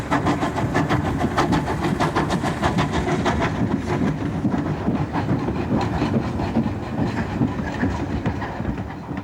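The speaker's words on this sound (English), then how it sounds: "This is a Great Eastern J69 engine, built for the intensive commuter traffic in East London." A Great Eastern J69 0-6-0 steam tank engine, built for East London commuter traffic, runs on rails with loud, rapid rhythmic chuffing and clattering close by, fading slightly toward the end.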